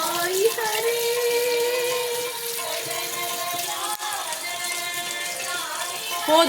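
Rice is washed under a running tap, a steady rush of water with faint rattling in a kitchen, continuing throughout at close range.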